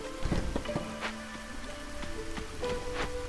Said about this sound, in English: It's drizzle right now, so it's a good time to plant.